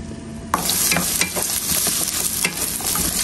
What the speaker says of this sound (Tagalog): Unahin lang natin yung sibuyas hanggang sa maging golden brown siya.